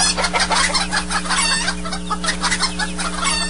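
Hens cluck loudly and continuously, a dense flock close by with overlapping calls and an occasional crowing note, filling the whole stretch without any talking.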